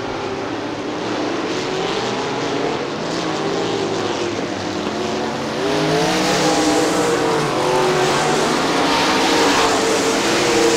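Super late model race cars roar around Crystal Motor Speedway in Michigan, a loud continuous engine drone with shifting pitch as several cars pass close by.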